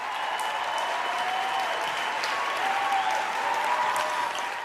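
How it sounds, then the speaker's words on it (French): Sustained clapping from a church service congregation, dense and even throughout, with faint voices mixed in. "On applaudit."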